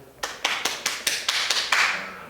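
A small group of people clapping, about eight distinct sharp claps in a steady, slightly accelerating rhythm, close and fairly loud, ending in a brief smear of overlapping applause.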